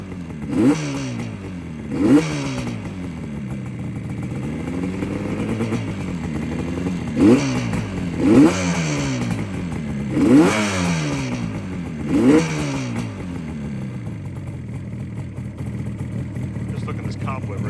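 1976 Yamaha RD400 motorcycle engine after a cold start, idling with repeated close, loud revs rising and falling in regular swells.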